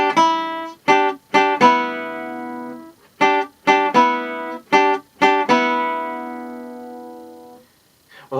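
Electric guitar plucking the high part of a song's ending, with sharp clean notes in quick rhythmic groups, the last one ringing out long before fading, close and alone.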